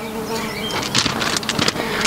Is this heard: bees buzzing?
yes